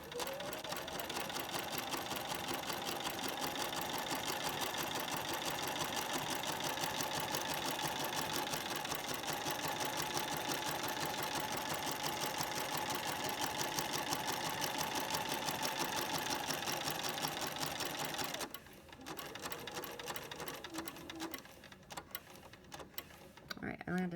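A sewing machine stitches an orange peel applique border, running in a long steady, close burst with a fine rhythmic ticking, then pausing briefly and starting again; a voice speaks faintly underneath.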